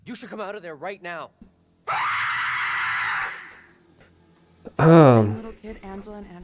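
A harsh, noisy scream from a character in The Dark Pictures: Little Hope video game, lasting over a second between stretches of speech, followed shortly by a loud groaning cry; people talk around it.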